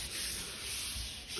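Close, steady rubbing hiss of sanding across a drywall surface, a continuous abrasive scrape with no talk.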